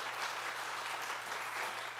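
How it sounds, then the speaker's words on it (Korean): Congregation applauding in a church, a steady dense wash of clapping hands that holds evenly through the whole moment without pause. "박수 한번 주세요."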